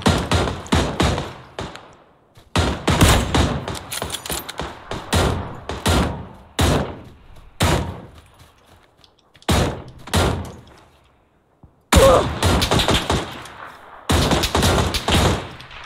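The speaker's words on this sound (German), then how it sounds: "Die haben in den Compound da geschossen." Sharp bursts of gunfire ring out in the video game PUBG, fired in a compound. Loud, separate shots and short volleys come at irregular intervals, parted by gaps of near silence.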